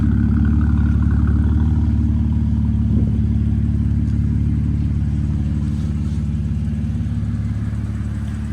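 A BMW car engine, just repaired after running badly, idles steadily and loudly up close, a deep constant hum with a faint surge near the start, no voices.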